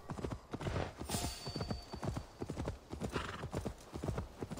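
Horse hooves clip-clopping at a steady trot in Assassin's Creed Valhalla, a continuous rhythmic run of close, moderately loud footfalls with a brief whinny near the start and faint game ambience beneath.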